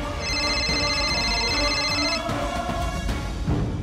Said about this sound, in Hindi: फोन साइलेंट कीजिए अपना